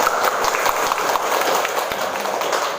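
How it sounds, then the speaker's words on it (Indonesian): Applause from a group of students in an Indonesian school lesson, dense rapid clapping sustained for a few seconds with faint voices mixed in. "Tepuk tangan kita semua"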